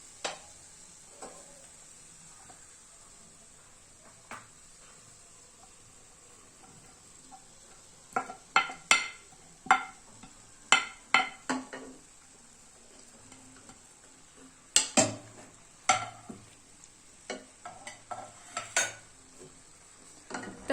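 Chopped onion fries quietly in a pan with mutton for a spicy curry, a soft low sizzle under repeated close stirring scrapes and clanks of a spoon against the pot.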